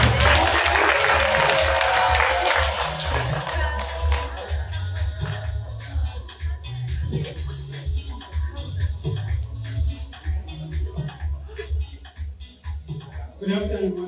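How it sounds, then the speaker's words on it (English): Audience applause at a university student orientation event, a burst of crowd clapping that starts strong and thins into scattered claps, with voices and shuffling mixed in. "Round of applause."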